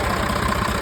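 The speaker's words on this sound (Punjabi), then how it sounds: "240 ਦਾ ਇੰਜਨ ਹੋਇਆ ਨਵਾਂ ਤੇ ਇੰਜਨ ਨੂੰ ਲੱਗੇ ਜੀ ਸਟਾਰਟ ਕਰਨ" A new engine on a Massey Ferguson 240 tractor runs with a close, loud, even diesel chug and a low, rapid knocking pulse, heard alone.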